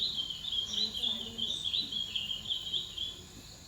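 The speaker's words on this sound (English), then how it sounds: "The birds in Singapore that you can hear giving such songs are things like white eyes" A white-eye bird in Singapore delivers a fast, complex warbling song, a high thin stream of quick up-and-down notes running continuously and fairly faint against a quiet background.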